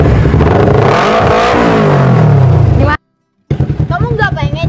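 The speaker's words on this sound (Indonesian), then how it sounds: "kalau kamu memang mau nunjukin suara knalpot kamu nggak apa-apa." A motorcycle exhaust revs hard, rising and falling loudly, then cuts out for a brief silence before a second run of sharp, choppy blips.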